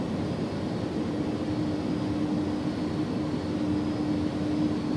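An iniBuilds A300-600R airliner on approach to Dublin in the X-Plane 11 flight simulator, with a steady cockpit engine drone and a faint constant tone, unbroken and free of talk.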